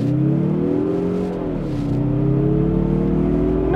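A 2023 Mazda CX-30 crossover accelerates from a rolling start, its engine note a steady loud drone that dips briefly and then climbs again, heard from inside the cabin.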